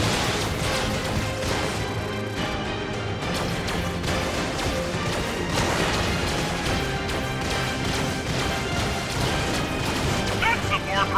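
Crashing, booming explosions as a cannon blows up in the video game Skylanders: Trap Team, bursting repeatedly over a dense, busy soundtrack, with loud impacts and rumbling blasts layered together.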